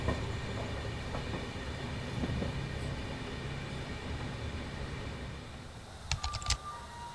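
Amritsar Bikaner Weekly Express passenger train running, a steady rumbling roar of wheels on track heard from inside the coach, with a few faint clicks and rattles near the end.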